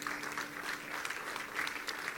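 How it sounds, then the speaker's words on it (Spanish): A church congregation claps together in a steady, dense burst of applause for the Lord during a Spanish-language sermon, sustained and fairly even throughout. "Dale un aplauso al Señor, claro que sí."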